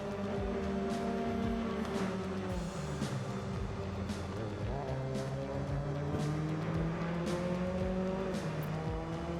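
Mazda MX-5 Cup race car engine in the RaceRoom sim racing game, steady revving with rising and falling gear-change sweeps and some tire squeal after spinning off track, continuous and moderately loud with no talking.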